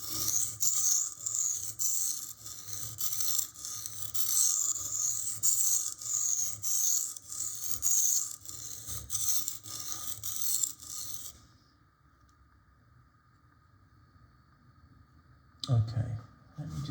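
A knife blade is rubbed on a Lidl Parkside sharpening stone in a rapid, rhythmic rasping that runs for about eleven seconds, then falls silent before a brief scrape resumes.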